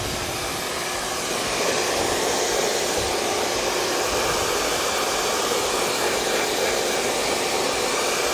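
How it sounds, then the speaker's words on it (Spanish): A hair dryer blows a continuous, even broadband roar while drying a terrier's coat during grooming, close and steady throughout with no talking. "Y siempre pues con el secado, pues que no esté ni muy caliente ni muy tibio."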